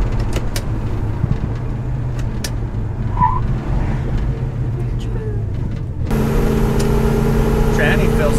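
Dodge Coronet cruising down an old road and turning around, its engine rumbling steadily from inside the cabin, with the tone shifting abruptly louder near the end as someone talks over it.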